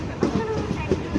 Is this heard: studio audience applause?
no